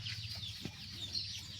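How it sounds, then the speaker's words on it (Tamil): A Siruvidai native mother hen on a country chicken farm gives soft, faint low clucks, with a few brief chirps from chicks mixed into the quiet farmyard background. "இது தாய்க்கோழி வந்து சிறுவடை தாய்க்கோழி தான் இது."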